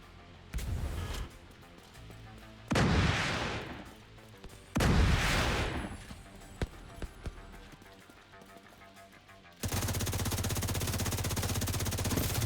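Mortar fire in The Division 2 video game: three heavy, booming blasts land a couple of seconds apart, each with a rumbling tail, followed by scattered small pops and a steady loud noise toward the end.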